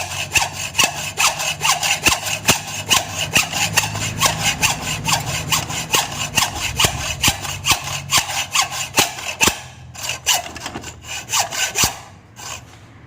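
A hacksaw saws through a stuck center-stand shaft on a Yamaha Nouvo MX motorcycle engine in quick, even, close back-and-forth strokes that slow and stop near the end.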